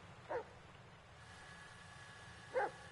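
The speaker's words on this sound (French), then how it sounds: "Le chien, il m'énerve à aboyer." Two short, faint dog barks spaced a couple of seconds apart from a dog in the Blair Witch video game, set in a forest, over a quiet humming background.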